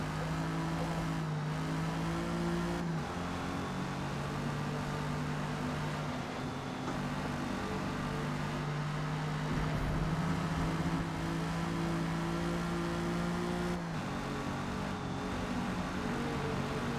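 A 1956 Jaguar D-Type race car in Forza Motorsport laps the Hakone GP circuit. Its engine roars loudly and continuously throughout, with pitch dropping at several gear changes and rising again under acceleration.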